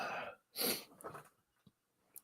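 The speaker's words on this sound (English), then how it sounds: "I'm gonna sneeze again." A sharp, breathy sneeze bursts out after a short inhale, followed by a few quieter sniffs and small noises, close and isolated.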